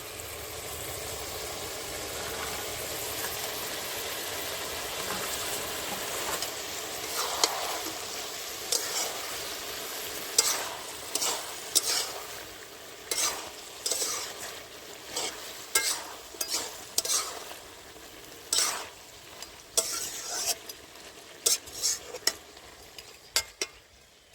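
Pre-fried potatoes and live-caught crabs go into a sizzling pan of puin and mitauli greens, a steady frying hiss overlaid by a long run of sharp, rhythmic spatula scrapes and knocks that grow more frequent toward the end.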